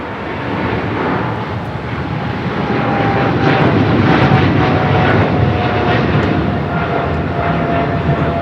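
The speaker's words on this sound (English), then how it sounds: "That was British Airways Flight 282 taking off to London Heathrow on a 777-300ER." A British Airways Boeing 777-300ER takes off from Los Angeles bound for London Heathrow, a loud steady jet roar with a faint high engine tone that swells over several seconds and stays strong.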